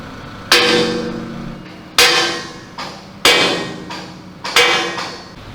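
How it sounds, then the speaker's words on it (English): Four loud, ringing sledgehammer blows strike metal tank parts during a Jagdpanther restoration in a workshop, evenly spaced about a second and a half apart, each clang decaying before the next hit. "those sledgehammer adjustments always make me jump"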